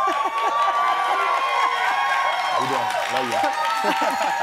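An audience applauds warmly, a dense wash of clapping and crowd noise that fills the whole stretch, with a few people talking and laughing over it nearby.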